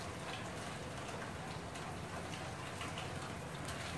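Steady outdoor rainfall in a backyard during stormy weather with a funnel cloud nearby, a dense even hiss of drops at moderate level throughout with no voices.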